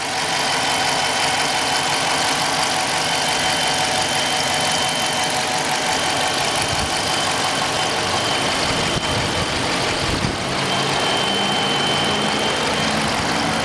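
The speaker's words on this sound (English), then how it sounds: "Let me be quiet so you can hear the engine real quick." A 2017 Dodge Charger police pursuit vehicle with an all-wheel-drive 5.7 HEMI V8 idles close by, a steady low rumble with an even throb lasting throughout.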